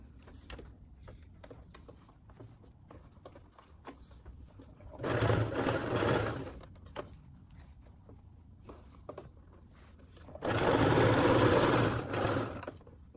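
A sewing machine stitches a military side cap in two bursts of steady mechanical whirring, each about a second and a half long, with quieter handling noises and small clicks in between.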